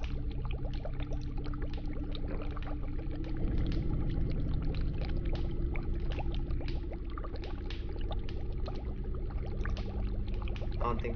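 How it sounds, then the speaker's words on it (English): In a plague-doctor video game, cow bile pours steadily into a pot, making a continuous liquid splashing and trickling for about eleven seconds with no talk. "Pour the cow bile into the pot."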